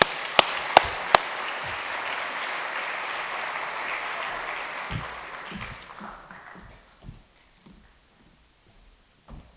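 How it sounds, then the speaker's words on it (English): A conference audience applauds a panel taking the stage, a few sharp claps opening into dense steady clapping that fades out over several seconds, with scattered claps at the end. "A round of applause for our next panel."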